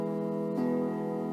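A single open steel string on a lap steel guitar is plucked and rings out with a smooth sustained tone over the faint tail of previous notes.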